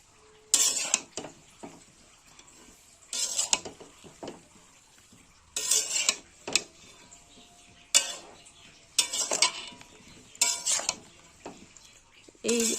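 A spoon stirs roasted spices into kul (jujube) pickle in a pan, producing repeated clusters of scraping and clinking strokes against the metal, spaced a couple of seconds apart with quiet gaps between.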